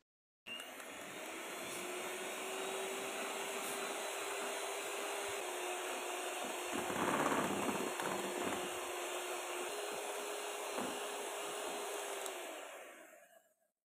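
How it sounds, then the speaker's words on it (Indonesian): An electric mixer beats strawberry ice cream batter at its highest speed, a steady loud whir running without a break for about thirteen seconds, with a brief surge in intensity midway. "lalu sama kita mixer juga sampai rata dengan kecepatan yang paling tinggi ya."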